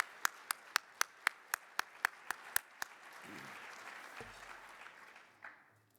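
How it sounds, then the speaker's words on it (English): A few isolated claps ring out sharply at a supplier awards event, a dozen evenly spaced hand claps in a quiet room that then stop, followed by low background murmur and a soft thump. "So if we could give our suppliers a nice round of applause,"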